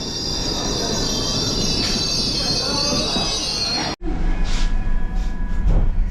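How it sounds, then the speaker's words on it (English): A passenger train pulls into a station in Italy, its wheels squealing loudly and steadily for several seconds before the screech cuts off, leaving quieter rumbling and faint clicks. "There you go, that's our train."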